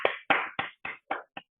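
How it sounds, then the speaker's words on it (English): Several sharp hand claps ring out one by one at an even, unhurried pace in a quiet room during a movement and exercise class, with short silences between them. "Give yourself a clap"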